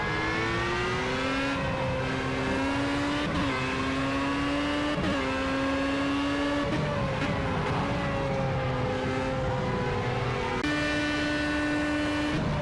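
A Formula A race car's engine in Project CARS at Spa-Francorchamps: a loud, continuous high-revving whine climbs through the gears. Clear shift breaks land every second or two, with no talk over it.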